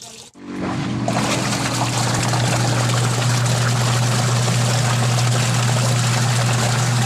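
Tap water pours steadily into a washing machine, just fitted with a new timer and gearbox, with a loud, continuous rushing over a low mechanical hum that starts after a brief pause and runs unbroken to the end.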